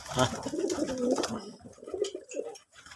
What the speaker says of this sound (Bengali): আর দেশের কবুতর ডাক দেখেন, সাউন্ড কি থাকে ওই দেখেন